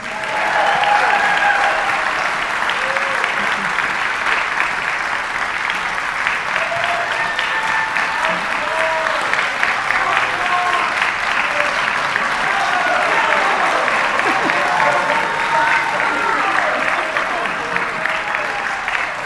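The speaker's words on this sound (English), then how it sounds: "Another round of applause for Dr. Copley and the honor choir" Sustained applause from an audience at a high school honors concert, honoring a conductor and the honor choir, dense and steady throughout, with no talk over it.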